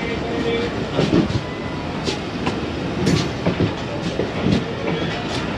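Tezgam passenger train running on rails between Raiwind Junction and Multan Cantt in rainy weather, with a steady loud rumble and rhythmic wheel clatter heard from inside. A voice talks over it.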